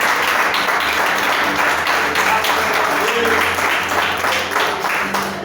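A church congregation breaks into loud, sustained applause, many hands clapping steadily and densely for several seconds with no pause.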